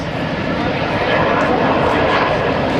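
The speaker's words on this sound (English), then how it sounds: "Taking off now. Two aircraft affectionately known as the Paris Jets." Two MS760 Paris Jet aircraft take off at the 2010 NAS Oceana airshow, a loud, steady broadband jet roar close by with an announcer talking over it.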